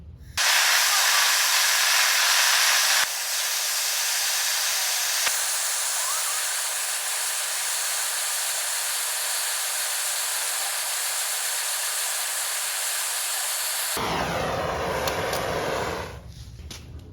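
A torch roars steadily while heating a metal part on a two-stroke build so it can be bent, a loud continuous hiss that drops slightly after a few seconds and changes near the end, no talking.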